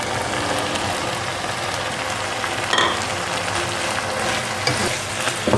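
Minced meat and peas fry in a pan with a steady, close sizzle that fills the whole stretch. A few faint scrapes and clinks of stirring come through, and nobody talks.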